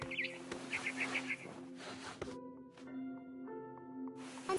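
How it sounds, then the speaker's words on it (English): A barn swallow chirps in a quick run of four or five bright notes in the video game What Remains of Edith Finch, set against steady electronic tones and a low hum. "Then I heard chirping outside my window. It was a barn swallow going back to her nest."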